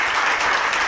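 Audience at a Hindi spiritual discourse breaks into brisk, dense clapping, a steady burst of applause heard alone for about a second.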